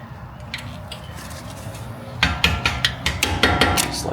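Close metallic taps hammer the brake pad retaining pins out of the front carbon ceramic brake caliper on a BMW F30 340i. Sparse knocks come first, then a quick run of sharp repeated strikes.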